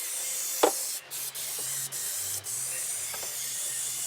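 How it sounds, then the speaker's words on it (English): Rust converter is sprayed into a cavity on a rusty Subaru wagon's shock tower, a soft steady aerosol hiss running throughout with a few brief breaks and faint clicks. "We're going to spray it with rust converter."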